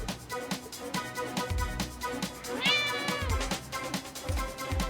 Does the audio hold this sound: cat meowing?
yes